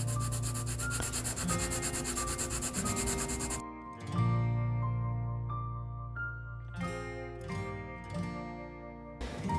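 Colored pencils from a 12-color set rub across paper in a soft, continuous scratchy shading, heard under steady background music.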